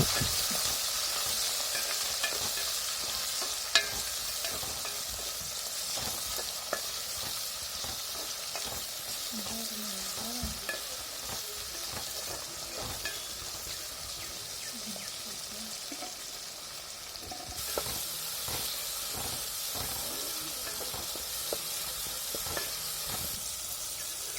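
Chopped onions and small tomatoes sautéing in a pan for a Tamil madavai fish curry, with a steady sizzle, occasional spatula scrapes and stirring, close and moderately loud with no talk.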